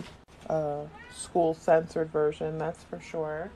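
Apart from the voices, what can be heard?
cat meowing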